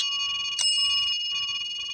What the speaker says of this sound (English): That bell is going nuts.